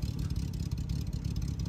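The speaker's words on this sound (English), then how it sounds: "Yeah, Jaguar engine." Jaguar 3.8 engine on a classic car at the 1000 Miglia, a close, loud, throbbing low rumble revving briefly with a rough clattering pulse and no voices.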